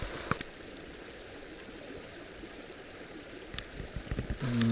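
Gentle, continuous burble of a small creek flowing at a tree ranch in early May, a soft steady wash with occasional faint splashes, ending with a brief low tonal sound.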